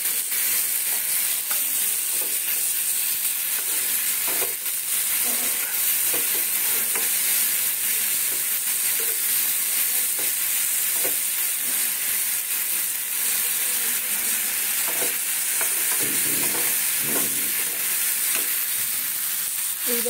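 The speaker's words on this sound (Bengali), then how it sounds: "দেখো তো মশলাটা কষাচ্ছি" Masala with Kashmiri chili and tomato stir-fries in a pan, a constant bright sizzle with repeated scraping stirs of the spoon close by, no voices.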